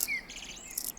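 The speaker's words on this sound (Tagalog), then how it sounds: "ramdam na natin ang mga huni ng mga ibon." Birds chirp faintly at dawn in a short, quiet stretch of high, thin tweets over a soft background hum.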